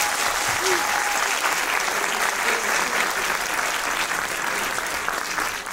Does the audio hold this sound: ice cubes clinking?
no